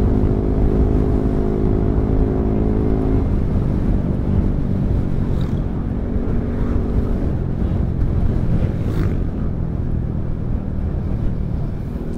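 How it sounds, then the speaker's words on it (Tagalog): Steady, loud wind roaring and buffeting the microphone throughout, with a low rumbling undertone like being out on open water. "Lakas ng hangin ah."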